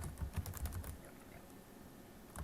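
Quick bursts of keystrokes come from a computer keyboard while a person enters spreadsheet data in Excel. The close, fairly quiet clicks start in a fast cluster and then trail off into sparse taps.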